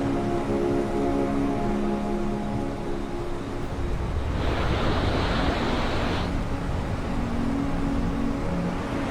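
Ocean surf rolling onto Iceland's volcanic Black Beach, a steady windy roar with one louder wave surging and washing in midway before settling back to continuous background wash.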